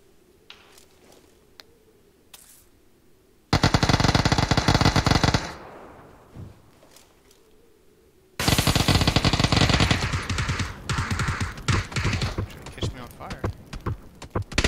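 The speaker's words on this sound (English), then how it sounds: "One of them just shot me." Gunfire in the video game PUBG: long bursts of rapid automatic shots roar loudly in two extended stretches, separated by quieter game ambience, with players talking faintly beneath.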